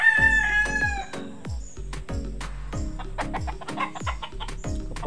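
A gamecock stag crows repeatedly in a breeding pen on a Philippine gamefowl farm, loud and close, with clucking and other fowl calls around it and no one talking.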